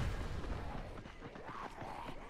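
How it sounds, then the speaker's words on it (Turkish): Gas canister exploding in the Dying Light video game, a loud rumbling blast filling the short stretch, dense low boom that trails off without a clear second hit. "Tüpü patladı ya Keko'nun."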